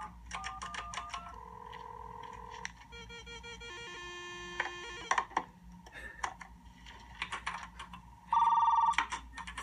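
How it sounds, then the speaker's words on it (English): A telephone modem dials into a school's computer, with a series of DTMF tones followed by sustained carrier tones, chirps and a final harsh burst of data noise, faint and unaccompanied by speech. "Dialing into the school's computer."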